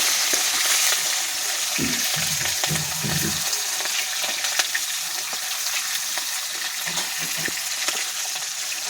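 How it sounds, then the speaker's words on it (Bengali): Hilsa fish pieces fry in hot oil with a continuous bright sizzle, broken by a few low knocks and scrapes early on and light crackling throughout. "এটার জন্য ইলিশ মাছটা ভাজতে বসিয়ে দেওয়া হয়েছে।"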